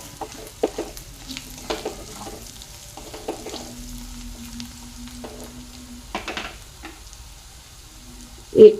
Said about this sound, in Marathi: हिरवी मिर्ची दोन हिरव्या मिरच्या घातल्या मी इथं